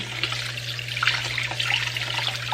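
Smoked meat being washed under a running tap, a close, steady trickle and splash of water continuing without a break over a low background hum.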